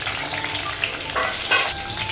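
Panch phoron spices and green chili sizzle and crackle steadily in hot oil in a home kitchen, a close, continuous fry with a few brief pops and stirring bursts.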